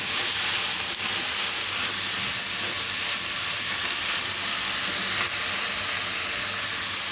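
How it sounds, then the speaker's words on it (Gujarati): Onions sizzle steadily in a pan for mint pasta, a loud, continuous bright frying hiss with faint crackles throughout and no voices. "અને ડુંગળીને આ આપણે થોડીક વાર પકાવી લીધું છે."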